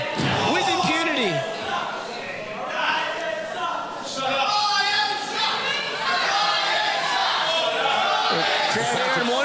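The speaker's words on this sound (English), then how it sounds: "Crowd here in Mornington letting Orion know how they feel" A pro wrestling crowd in Mornington reacts with loud, continuous shouting, jeers and cheers that stay dense throughout.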